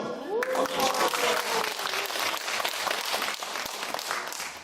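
Church congregation clapping for a member during an evangelism testimony, a dense, steady round of applause filling the room, with a brief voice rising early on.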